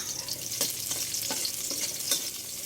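Garlic fries in a pan until golden brown, giving a steady soft sizzle punctuated by several scraping stirs of the spatula, close and moderately quiet.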